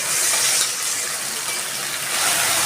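A steady stream of water poured from a mixer jar splashes onto onion-garlic paste in a pan, continuous and fairly loud for a few seconds.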